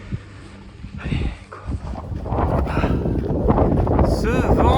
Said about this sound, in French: Quand il pleut pas, il y a du vent.